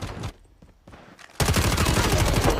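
Call of Duty gunfire: scattered shots give way to a sustained burst of rapid automatic fire that stays loud and dense to the end.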